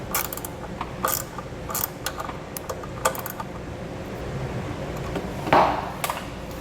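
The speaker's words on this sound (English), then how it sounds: "I'll come back with my screwdriver and my socket and tighten everything up" Socket ratchet tightening hardware on an LED trailer license plate light, a series of irregular clicking ratchet bursts close by, broken up by short pauses and small handling knocks.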